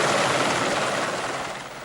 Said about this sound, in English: A helicopter lifts a high-tech device into the air.